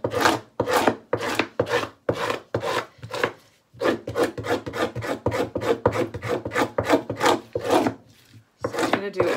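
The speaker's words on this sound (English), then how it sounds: "So I'm going to do a quick scrape of the flesh that comes off easily." Hand scraping of flesh from fish skin for leather, a forceful rasping stroke repeated in a steady rhythm of about twenty close, loud passes with brief pauses between bursts.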